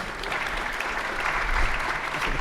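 An audience at a debate applauds in a dense, steady roll of clapping throughout, moderately loud and filling the room.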